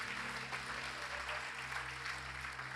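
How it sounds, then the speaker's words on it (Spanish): A church congregation applauds during a sermon, a soft, distant wash of clapping over a steady low hum from the room's sound system. "Denle un aplauso al Señor"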